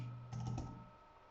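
A short burst of a few soft keystrokes on a computer keyboard, quiet and close, over a steady low hum.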